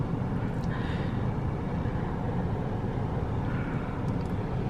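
A MacNeil in-bay express car wash runs its first brush over a car at a Peachy Kleen wash in Perry, Utah, giving a steady, loud low rumble and churning wash without pause.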